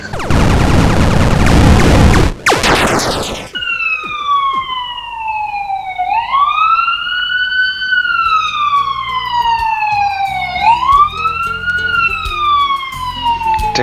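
A real police car siren passes outside a window, first a harsh noisy blast, then a loud rising-and-falling wail sweeping up and down several times, strong and near, over a low background rumble.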